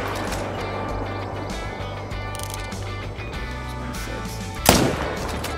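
A single sharp rifle shot fired at a black bear in the video game Call of the Wild, a loud crack near the end rising out of steady ambient outdoor noise.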